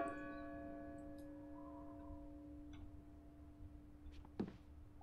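Church bells ringing in the Draugen video game, one clear tolling strike that rings out and decays slowly, quiet and distant, followed by a faint clunk.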